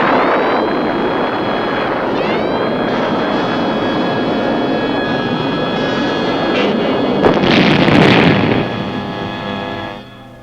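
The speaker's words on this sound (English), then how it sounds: "Now that the enemy aircraft has been destroyed, the fire unit transmits a message to Birdie indicating that it is ready to engage additional targets." A surface-to-air missile launch at a 1970s US Army air defense site, heard as a loud sustained roaring rush with tonal whine, a sharp burst near the end, then fading away; no talk.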